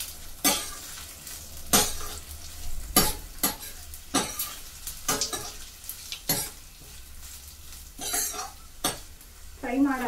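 Tomato gojju fries on a low flame while a utensil stirs the pan, a steady close sizzle broken by regular scraping strokes and the odd clink against metal, with no talking.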